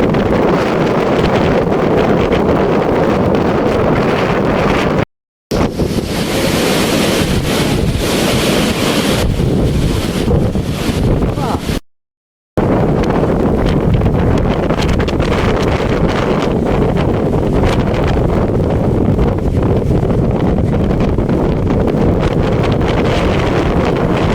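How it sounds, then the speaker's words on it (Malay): Strong gusts batter the microphone on an exposed seaside headland at Tanjung Simpang Mengayau, Sabah, with roaring wind and surf blending into a loud, continuous rush, broken by two brief dropouts. "Ini pun tengok dengar bunyi kokreng-kokreng kat sana, kuat angin."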